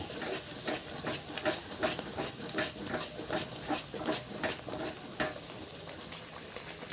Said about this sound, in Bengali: দুধটা দিয়ে এটাকে এখন ভালো করে নাড়িয়ে ঝাড়িয়ে এখন মিক্স করব